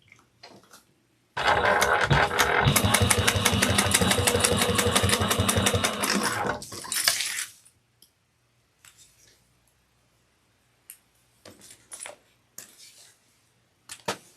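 Top stitching runs through layered fabric on a sewing machine, a fast steady whir that lasts about five seconds, then a short burst follows and scattered handling clicks.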